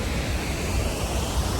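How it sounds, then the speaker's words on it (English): Broadband roar of a waterfall in Costa Rica, close and loud, a steady rushing wash that fills the whole moment with no other sounds. "this just happens to be a waterfall we can walk behind"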